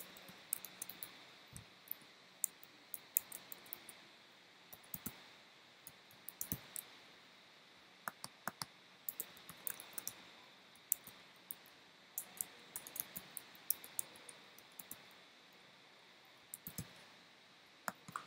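Faint, scattered clicks and light taps from a computer mouse and keyboard come in uneven clusters over a quiet background hiss while web links are typed in.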